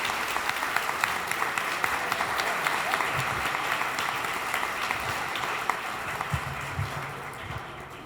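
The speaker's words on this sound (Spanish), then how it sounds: "Un fuerte aplauso para la mesa, por favor." An audience applauds a panel at an international book fair, giving dense, steady clapping that holds for the whole stretch and tapers slightly near the end. A few faint voices sit underneath.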